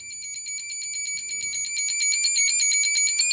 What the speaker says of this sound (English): There's that classic sample and hold sound you hear from 1950s or 1970s space movies.